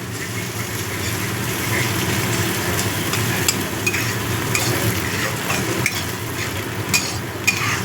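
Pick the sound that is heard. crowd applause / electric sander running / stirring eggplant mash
stirring eggplant mash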